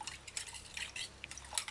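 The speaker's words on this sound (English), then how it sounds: "Add warm water to the sugar and the instant yeast." Warm water pours onto sugar and instant yeast with quick splashy trickles and small drips, close and fairly quiet, with no talking.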